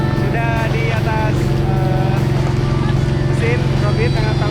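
A motorboat engine drones loud and close with a steady low hum as the boat heads out to an island, while people talk over it throughout.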